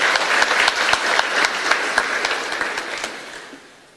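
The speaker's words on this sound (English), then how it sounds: "Yeah, come on, you clap for the Lord Jesus." An audience at a religious gathering claps loudly and nearby, a dense burst of applause with crisp individual claps that gradually thins and fades toward the end.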